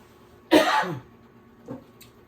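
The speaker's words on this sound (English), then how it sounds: "the pepper kind of had me coughing" One sharp, close cough from pepper while eating squash casserole, followed a moment later by a fainter short throat sound in a quiet room.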